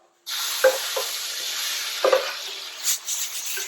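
Hot masala puree for chole hits a pan and bursts into a loud, steady sizzle, while a spoon scrapes and knocks a few times as the mixture is stirred close by.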